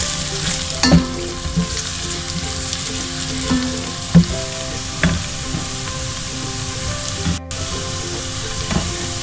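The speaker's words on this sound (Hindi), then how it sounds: "ये मैं इसमें शामिल करें प्याज फ्राई करते हैं।" Onions frying in hot oil with whole spices like cloves and star anise for Kashmiri chicken, a steady close sizzle with occasional stirring knocks and scrapes against the pan.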